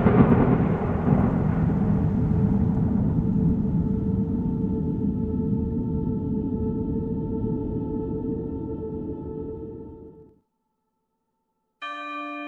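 Heavy rain with rolling thunder roars loudly and steadily, then slowly fades and cuts to silence before a brief ringing tone at the end.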